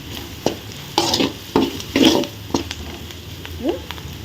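Onions and spices fry in a pan, with a spatula scraping and stirring in regular strokes over a steady background sizzle.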